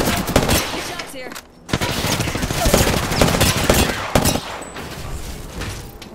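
Rapid bursts of gunfire in the Apex Legends battle royale game, with loud, overlapping volleys and sharp single shots across the whole stretch, while a voice talks over the action.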